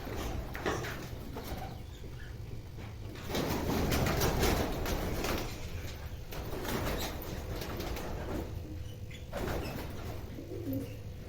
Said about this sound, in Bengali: অঙ্কুশ আবারও অপেক্ষা করছে আরও একটা পায়রাকে আনার জন্য।